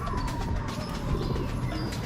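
A racing pigeon that has just landed after a 23 km training flight from Baras, Rizal to Marikina coos softly at close range amid outdoor background noise and a few other faint bird sounds.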